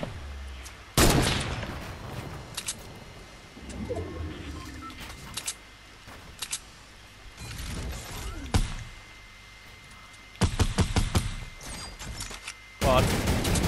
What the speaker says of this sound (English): There's a guy at shifty shooting at us